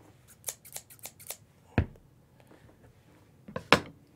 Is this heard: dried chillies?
no